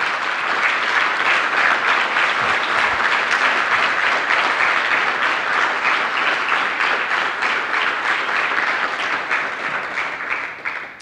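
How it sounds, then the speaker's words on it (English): Loud, sustained applause from an audience in a meeting room, a thick continuous roar of many hands clapping for a colleague being honored, steady throughout and tapering slightly at the end. "So Philip, can you stand up so we can clap at you?"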